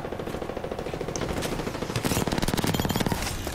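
Rapid automatic gunfire in Apex Legends, including an R99, rattles in dense repeating bursts that grow louder and tighter halfway through, with scattered impact clatter.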